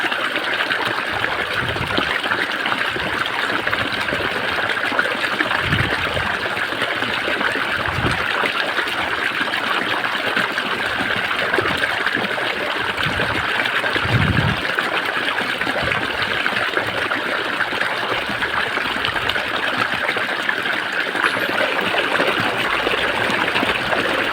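Water flows steadily from a VFD-controlled pump in a constant rushing, trickling stream with a few soft low thumps, loud and close throughout.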